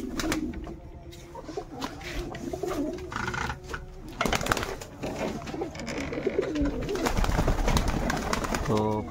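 Pigeons coo softly at a little distance among scattered rustles and handling noises, with a low steady background hum running throughout.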